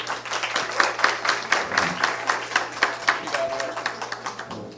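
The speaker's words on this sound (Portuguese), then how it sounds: "Uma salva de palmas, por favor." Applause from a modest crowd, distinct claps in a loose rhythm, sustained for several seconds with a faint hum underneath.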